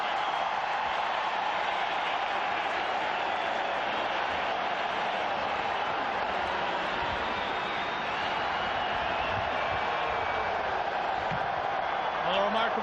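A stadium crowd at a 1994 football match in Edmonton, Canada against Brazil, keeps up a steady, distant roar throughout, with a commentator talking over it.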